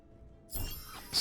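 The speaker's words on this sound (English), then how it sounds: "Soul Shatter" Soul Shatter ability effect in the action game Hell Clock: a sudden bright, glassy shattering burst after a quiet moment, followed by a shimmering crackle and a second sharp flare of brittle sound at the end.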